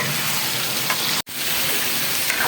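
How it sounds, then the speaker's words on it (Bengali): Beef frying and being stirred in a pot: a dense, loud, close sizzle that runs continuously, cut by a single split-second silence midway. "মাংসগুলো দিয়ে দিচ্ছি তারপরে কষায় নেব অনেক সময় কষাতে হবে"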